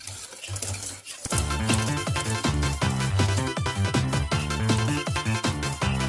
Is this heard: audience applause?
no